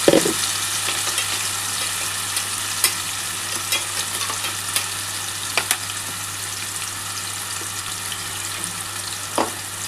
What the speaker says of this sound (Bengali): আমি কিন্তু এবার চিকেনটা যেটা মেখে রেখেছি সেটা দিয়ে দিচ্ছি।